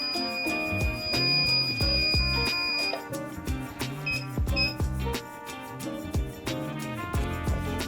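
A sublimation mug heat press timer gives out a series of electronic beeps near the end of its countdown, with clear tonal chirps alongside sharper mechanical clicks and knocks from the equipment.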